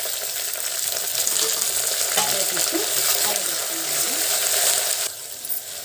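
Garlic and curry leaves frying in a pan for an Andhra-style chilli curry, a continuous loud sizzle with occasional spoon clinks and stirring scrapes.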